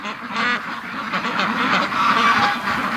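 Free-range ducks quack and honk outside their pen, a noisy overlapping chorus of several birds close by, continuous for a few seconds with no one talking.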